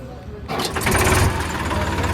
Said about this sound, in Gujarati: ટ્રેક્ટર ચાલુ કરશું.